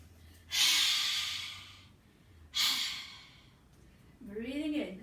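A yoga class in goddess pose, with two long, loud breaths drawn in and pushed out about two seconds apart, then a voiced sighing exhale rising and falling in pitch, close and alone.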